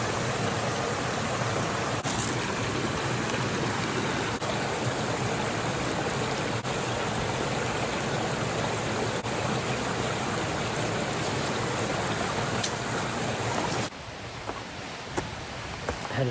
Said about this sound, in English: Got some flowing water through here.